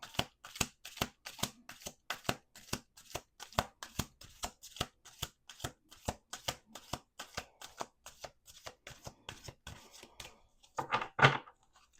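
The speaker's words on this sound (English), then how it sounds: "do 2 more shuffles." Cards are shuffled repeatedly at close range, a steady train of quick riffling slaps ending in a louder burst.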